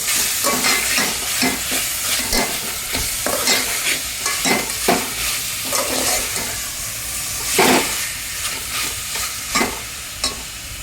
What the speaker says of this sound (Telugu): రొయ్యలు కూడా బాగా వేయించుకోవాలండి